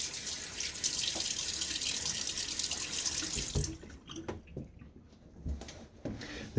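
A bathroom tap runs into a sink while a man wets his face before shaving. The water pours steadily and then breaks into splashes and drips as hands scoop it, close and fairly quiet.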